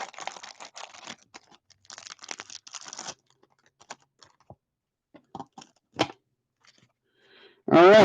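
Hockey and baseball trading card packs torn open with basketball scissors, close bursts of crinkling wrapper and sharp tearing separated by quiet pauses, ending with a voice starting to speak.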